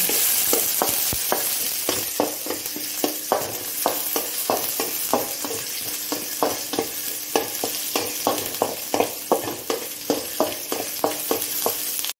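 Onion and chili frying in a pan, a constant crackling sizzle punctuated by regular, evenly spaced scrapes of a spatula stirring, close and clear.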